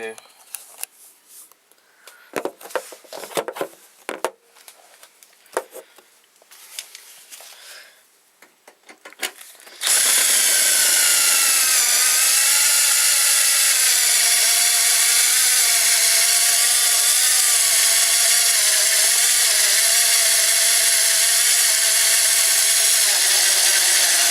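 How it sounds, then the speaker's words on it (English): An electric drill is worked against the cover of a Betamax VCR: scattered knocks and handling clatter come first, then a loud, steady, unbroken whir runs without pause for the rest of the time. "But now let's try with like a tool with the drill."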